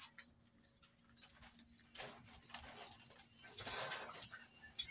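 Pigeons in a loft give soft, faint coos while wings flap in a few brief bursts, quiet and close amid low background hum.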